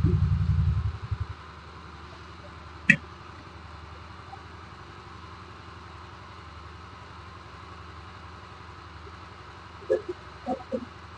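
A motorcycle engine, started by hand after its battery was charged without a charger, idles with a steady low hum after a brief louder rumble at the start. A few faint knocks and clicks come near the end.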